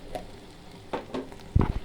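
Turmeric powder frying in a pan, a soft sizzle with a few stirring scrapes and a louder clatter near the end, close by and moderately quiet.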